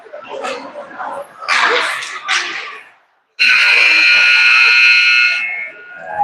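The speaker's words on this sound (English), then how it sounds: "And there's the buzzer." Buzzer ending the second period of a high school hockey game between the STMA Knights and Sauk Rapids Storm, a loud sustained horn-like blare lasting about two seconds after a stretch of crowd noise and commentary, with talk around it.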